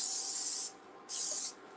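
Cooking spray hisses into a pan on a stovetop in two short, close bursts separated by a brief pause, with no talk over it.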